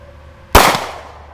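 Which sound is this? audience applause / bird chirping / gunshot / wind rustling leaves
gunshot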